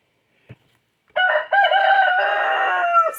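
A rooster crows close and loud in one long, drawn-out call after a brief click, with a short cluck-like onset before the crow, in otherwise quiet surroundings.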